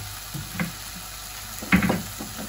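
Pasta with chicken being stirred in a frying pan, a soft background sizzle broken by a few scraping, clattering stirs of the utensil against the pan.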